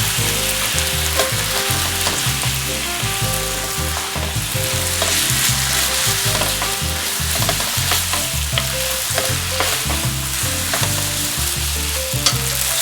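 Yakisoba noodles tossed with homemade sauce sizzle loudly in a pan, with steady frying crackle under a rhythmic scraping and clacking of stirring throughout.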